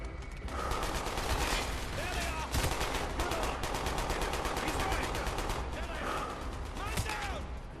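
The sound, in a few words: Sten submachine gun firing in video game Call of Duty: Black Ops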